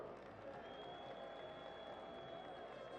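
A crowd at a PDP presidential campaign rally in Lagos applauds Goodluck Jonathan with steady, dense clapping and cheering that carries on unbroken, a faint tonal whine over it.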